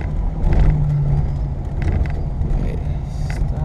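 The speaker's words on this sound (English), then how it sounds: "when the turbo kicks in, it's amazing" Turbocharged engine of a 1986 Buick Grand National pulling hard under acceleration, a loud close-up low rumble that stays strong and steady through the pass.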